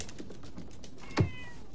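A cat gives a single short meow alone at about the middle, over faint background noise and light tapping in a quiet indoor room.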